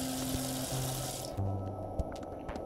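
Running water in the video game Adventure Time: Finn and Jake Investigations, a steady broadband rush like a tap filling a sink, stopping abruptly partway through and leaving faint low hum and clicks.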